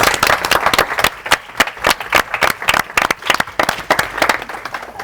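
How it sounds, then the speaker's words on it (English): Loud, dense applause from an audience at a students' union event: many hands clapping rapidly and continuously, with no talking over it. "So I think you should give yourselves a round of applause."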